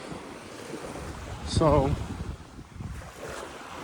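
Ocean waves and wind on Manasota Key beach in Southwest Florida, in the aftermath of Hurricane Ian, give a steady, moderate surf-and-wind wash with blustery microphone rumble. A voice speaks briefly midway.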